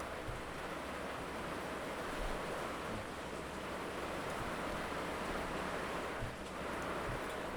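Heavy rain pours down outdoors, a dense, steady roar of broadband hiss with occasional low thumps, no talking.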